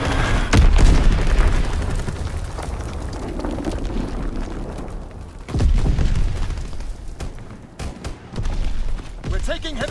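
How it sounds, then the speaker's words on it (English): Bomb explosion in the video game Call of Duty: WWII, a heavy booming blast followed by rumbling debris and a second deep impact, with scattered battle noise and voices mixed in. "Bomb incoming."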